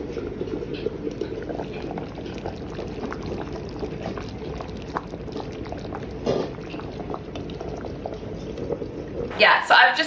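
Potato and leek soup boils in a pot on the stove, a close, continuous bubbling and simmering, with a sharper clatter near the end.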